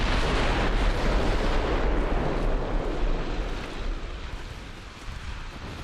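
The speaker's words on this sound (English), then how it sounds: "And apparently longbow did take a torpedo." A torpedo strikes a destroyer in the naval video game Ultimate Admiral Dreadnoughts, a loud booming explosion with a rumbling roar that slowly fades over several seconds.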